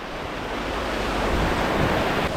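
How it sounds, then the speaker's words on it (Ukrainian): Rushing river rapids on a rafting run in the Carpathian mountains, heard as a steady, loud broadband roar of churning whitewater, constant and unbroken throughout. "Ми зараз підходимо до другого порогу, називається гучок."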